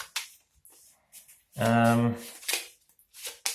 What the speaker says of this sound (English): now it's time to shuffle these cards up